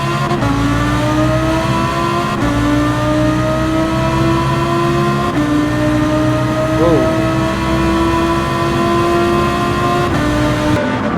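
Race car engines in a racing video game drone loudly and steadily, pitch climbing through each gear and dropping sharply at the shifts, with several cars close together and the whine holding throughout.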